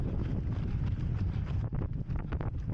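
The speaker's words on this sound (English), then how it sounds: "It's probably one of the worst headwinds I've raced in for the 3k proms." A strong headwind during a 3k running race roars and buffets the microphone continuously, giving a loud, rough rumble with no talking.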